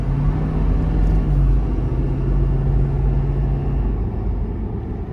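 A 2023 Ford F-250 XL regular cab with the 6.7 Powerstroke turbodiesel accelerating on the road, a heavy low rumble and droning engine tone heard from inside the cab, steady and loud before easing slightly.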